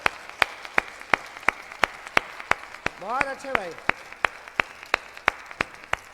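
An audience at a Hindi poetry recital claps in steady, evenly spaced unison beats, moderately loud, while a voice briefly speaks midway.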